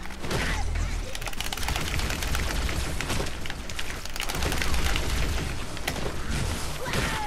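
Plasma pistol fire in Halo: Combat Evolved amid a loud, dense battle mix of rapid repeated shots and mechanical clatter, continuous and close throughout.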